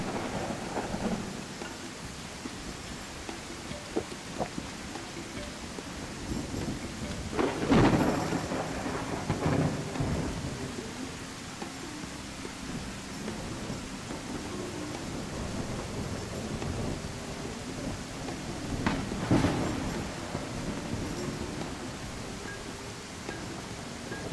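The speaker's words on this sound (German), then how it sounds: "Der Regen ist laut, der Regen ist laut" Steady in-game rain from Tribe: Primitive Builder, with two deep rolls of thunder rising out of the downpour, the second near the end, and no talk over it.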